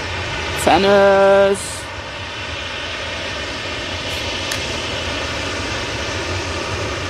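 A Ryanair Boeing 737 departing Manchester Airport makes a steady, broad jet roar that holds throughout at moderate distance, with a brief tonal blare early on.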